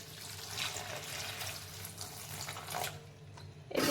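Water runs from a tap over pumpkin leaves in a vessel for washing, a steady close gushing stream with shifting splashes and a louder burst near the end, no talking.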